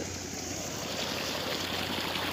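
Water gushes steadily from the delivery pipe of a 5 hp Versil Sunbond PMSM solar pump with a 3-inch outlet, a loud continuous splashing rush heard up close over a low steady hum.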